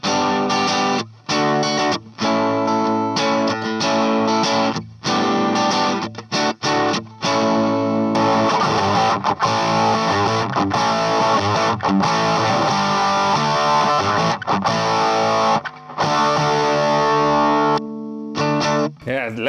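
Electric guitar through a vintage Dallas Rangemaster treble booster, playing bright, driven chords and riffs with sustained notes and brief gaps, loud and close.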